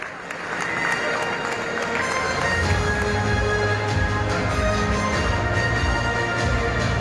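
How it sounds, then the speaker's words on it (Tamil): Loud crowd applause with some cheering fills a large ceremony hall as the Tamil Nadu Chief Minister arrives, a dense steady roar of clapping that holds throughout with a low hum underneath. "உங்களின் பலத்த கைத்தட்டல்களுடன் மாண்புமிகு தமிழ்நாடு முதலமைச்சர் அவர்களை வருக வருக என அன்புடன்"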